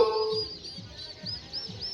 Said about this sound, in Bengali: আপনারা দেখুন আমাদের যে টার্কি মুরগির বাচ্চা